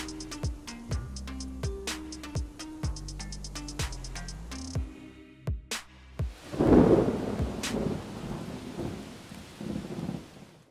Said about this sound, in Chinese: 突然来了一场阵雨，30秒钟的时间就把社长淋成这个样子